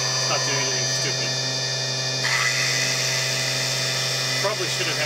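A Tree Journeyman 325 CNC milling machine drills a deep hole, producing a steady high-pitched spindle whine over a constant electrical hum, with brief changes in tone as the cut progresses.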